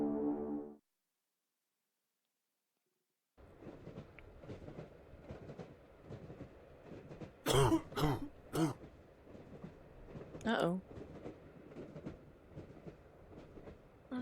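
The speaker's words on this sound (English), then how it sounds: "On a train." A train rolls along rails in The Last Door video game, a steady low rumble with rhythmic clatter, while sharp coughs and throat-clearing break through several times; a brief voice is heard at the start.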